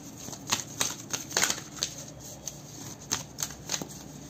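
A tarot card deck being shuffled by hand, with soft riffling bursts and crisp card snaps repeating in quick, irregular clusters, close and fairly quiet with no talking.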